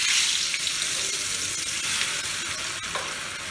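Hot oil in a pan set up for frying fish gives a loud, continuous hiss and crackle that holds steady throughout, heard close with a few faint pops and no voices.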